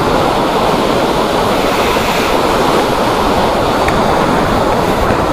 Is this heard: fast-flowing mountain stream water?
yes